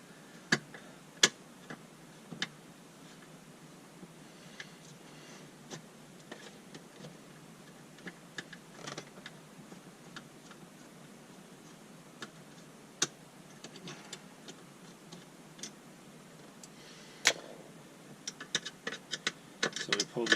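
A T20 Torx screwdriver backs out tightly fitted screws from a car navigation unit. Sparse, sharp ratchet-like clicks and ticks sound close and quiet, growing busier toward the end.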